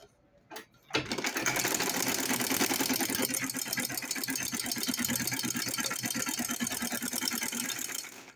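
A sewing machine runs a steady rapid stitching rattle while top stitching a zipper pouch, starting after a brief click and continuing close and even for several seconds with no talking.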